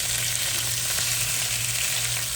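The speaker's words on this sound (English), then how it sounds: "we're not cooking it done in the skillet, we just brown it" Meat browning in a skillet, a continuous dense sizzle with a low steady hum underneath, close and even in level throughout, no talking.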